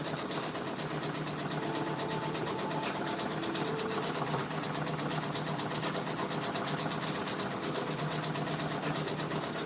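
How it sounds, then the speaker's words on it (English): An embroidery machine stitching out a Drake patch runs with a fast, steady mechanical chatter and whir, constant and close throughout, with no talk. "let's keep on stitching out this Drake patch"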